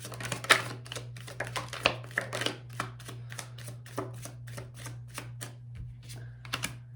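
Tarot cards are shuffled and handled close up in a quiet room, a steady run of crisp taps and riffles with a few louder snaps, no talking.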